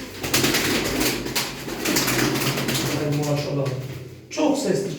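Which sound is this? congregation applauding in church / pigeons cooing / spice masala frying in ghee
pigeons cooing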